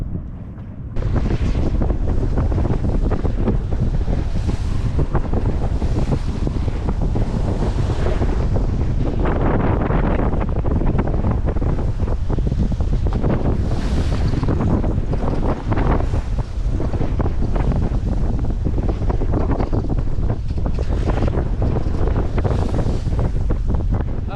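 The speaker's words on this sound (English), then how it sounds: "the wind is already in the upper teens" Strong upper-teens wind roars steadily across the microphone aboard a double-reefed sailboat beating upwind offshore on the Pacific from Cabo San Lucas toward Newport Beach, with the wash of waves and hull underneath, loud and continuous.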